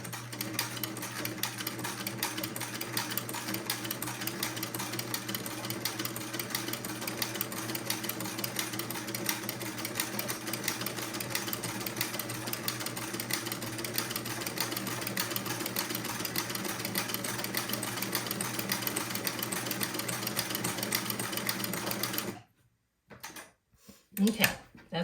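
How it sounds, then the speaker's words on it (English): A sewing machine with a buttonhole attachment stitching a buttonhole on a white boy's suit, a steady, close mechanical whir running continuously for over twenty seconds before stopping, followed by a few clicks. "So I'm going to make the second buttonhole."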